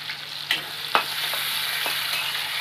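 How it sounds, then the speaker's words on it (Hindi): Sliced onions frying in hot oil with cumin for a goat trotters paya curry, giving a steady soft sizzle with a few louder stirring clatters, close and continuous, with no talking. "पिज लाल हेला बेल जाकर भाजमा।"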